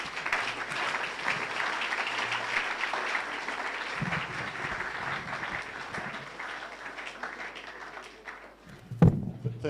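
An audience at a Ghanaian youth entrepreneurship and leadership event applauds a speaker being welcomed. Dense, steady clapping carries on for several seconds, then thins out toward the end under a faint voice.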